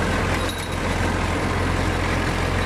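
Someca 715 tractor engine running flat out at full throttle, a steady, loud low diesel drone with constant rumble throughout and no talk.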